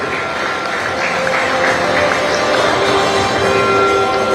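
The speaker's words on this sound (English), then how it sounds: "Let's keep that round of applause going." Sustained applause from an audience at a football award ceremony held by the Goa Football Association, a steady, dense wash of clapping throughout, with faint voices and tonal sounds mixed underneath.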